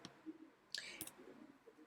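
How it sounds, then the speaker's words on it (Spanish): A computer mouse gives a single faint, crisp click in a quiet room, followed by brief soft ticks. "Voy a hacer un clic en esta imagen"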